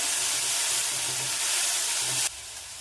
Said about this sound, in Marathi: बारीक चिरलेला कांदा घालून घ्यायचा आता कांदा तेलात लालच्या रंगावर परतून घेऊया